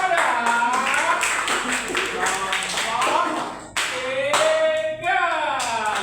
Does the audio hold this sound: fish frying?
no